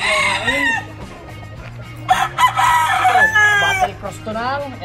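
A gamecock rooster crows loudly and close by, several strained cock-a-doodle calls in sequence with clucking from other fowl, while someone talks at times between the calls.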